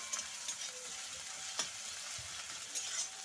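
Spice paste for aloo tikki sautéing in a pan, giving a steady, bright sizzle and frying hiss with occasional scraping stir strokes, close up and with no voices.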